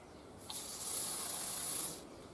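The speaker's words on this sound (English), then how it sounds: "Coat of WD-40." An aerosol can of WD-40 sprays during a 308 V8 engine rebuild, one steady close hiss lasting about a second and a half, with quiet surroundings.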